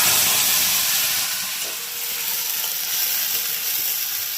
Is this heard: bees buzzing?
no